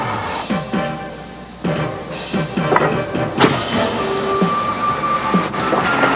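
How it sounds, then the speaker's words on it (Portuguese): Steam locomotive Lydham Manor easing slowly into Paignton station to couple with a passenger car, with heavy hissing steam, clanks and metallic knocks in an uneven rhythm, close and loud. "a locomotiva Lydham Manor chega vagarosamente para acoplar o carro de"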